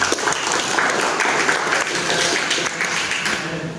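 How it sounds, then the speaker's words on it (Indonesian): A group of school students claps together after a motorcycle filtration demonstration, dense, loud applause held evenly throughout and close by. "Tepuk tangan dulu buat kita semua."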